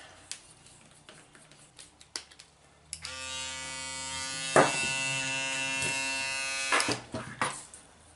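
A Braun Series 3 340 electric shaver buzzes loudly for a few seconds with a steady tonal whine, surrounded by handling clicks and taps before and after.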